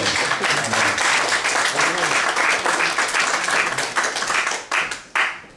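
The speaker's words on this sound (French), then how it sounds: "Est-ce qu'on peut applaudir Dieu?" A church congregation bursts into dense, sustained applause close by, a steady wash of many hands clapping that thins and breaks off near the end, with faint voices mixed in.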